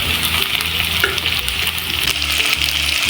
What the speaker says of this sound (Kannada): ಇದಿವಾಗ ಕ್ಲೀನಾಗಿ ಫ್ರೈ ಆಗ್ತಾ ಇದೆ.